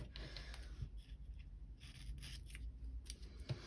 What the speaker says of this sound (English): Doesn't matter if we can trim the edges of the page. Let's trim that off.